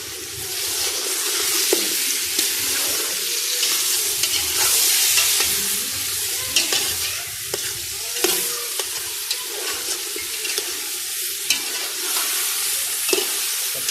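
Mixed vegetables fry in a pan for vegetable pulao, giving a steady, fairly loud sizzle with repeated stirring scrapes and no voices.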